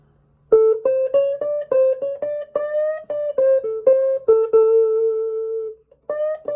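Electric blues guitar plays a run of single picked notes in second position in A, a steady string of close, clean tones, the last held long before a brief pause and two more notes.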